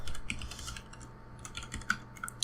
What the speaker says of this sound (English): I'm sorry if you can hear my keyboard, like my mic is very sensitive